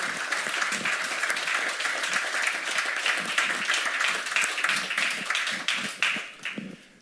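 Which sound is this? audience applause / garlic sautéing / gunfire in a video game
audience applause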